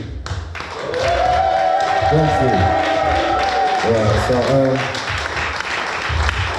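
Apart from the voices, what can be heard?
crowd cheering and applauding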